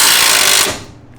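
An impact gun loosens a coilover bolt on a Mazda Miata NA, giving a loud, dense mechanical rattle that runs for about half a second and then cuts out quickly.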